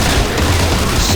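Dense, loud video game gunfire in a hurricane survival game, a continuous barrage of overlapping shots and booms.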